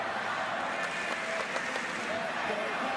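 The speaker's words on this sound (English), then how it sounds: "The crowd's cheering." Sustained applause and cheering from a college wrestling crowd at a Big 12 133-pound match, a dense, even wash of clapping with a few sharper claps standing out.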